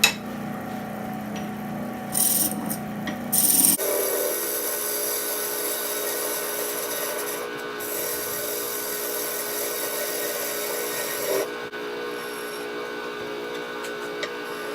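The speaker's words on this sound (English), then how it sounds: "I'm just going to use the parting tool and the skew chisel again to part this finial off." A parting tool and skew chisel cut a wooden finial on a lathe: a steady whirring spin with scraping bursts at the start, then a sustained, even cutting hiss with brief dips.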